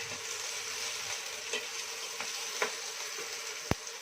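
Chopped onion frying lightly in a pan for masala oats gives a steady close sizzle throughout, with a few soft clicks of stirring and one sharp tap near the end, no voices.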